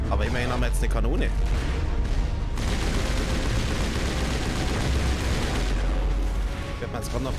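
Heavy cannon and weapon fire in the sci-fi game Mass Effect Legendary Edition, a deep rumbling barrage with booming blasts and crackling shots that runs steadily, while someone speaks over it.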